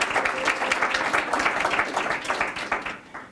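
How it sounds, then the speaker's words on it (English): An audience at a county budget presentation gives a round of applause, many hands clapping steadily for about three seconds before tapering off, heard from a moderate distance. "So if we can give them a round of applause"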